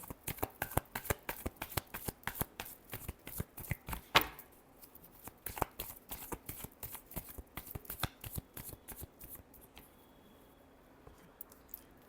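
Tarot cards are shuffled by hand close up, a quick series of papery riffles and slaps in steady rhythm that briefly pause before continuing more softly, with no voice heard.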